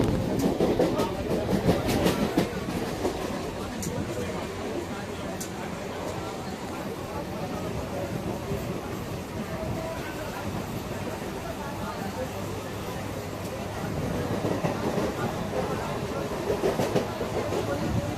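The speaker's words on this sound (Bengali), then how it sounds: "আমাদের ট্রেনও চলে এসেছে। ট্রেনটা থামলে আমরা ট্রেনের ভিতরে চলে যাব।" A train rolls along with a continuous low rumble and rattle that swells louder near the start and end, while voices and general chatter carry underneath.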